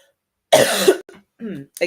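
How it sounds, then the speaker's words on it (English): A single harsh cough up close, followed by a couple of short throat-clearing sounds. "I apologize for the cough"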